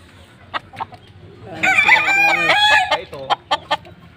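A fighting rooster crows loudly at close range in one long strained call, preceded and followed by short sharp clucks, with faint voices in the background.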